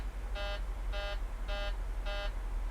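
A Boeing 737 cockpit alarm sounds during a depressurization emergency, four evenly spaced electronic buzzing tones pulsing over the steady low hum of the flight deck.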